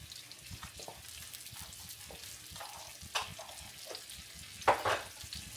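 Salmon frying in a pan, giving a low steady sizzle at close range, broken by a few brief sharper crackles and spits near the end.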